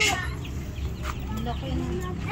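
Chickens cluck steadily close by, with soft voices and outdoor background sounds mixed in.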